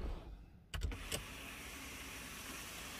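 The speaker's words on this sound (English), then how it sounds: "That's the sunroof. See if we can get the shade to come up." Electric motor whirring briefly as the power sunroof shade moves inside a 2019 Lamborghini Urus, a short mechanical burst with a couple of soft clunks, then quiet cabin hum.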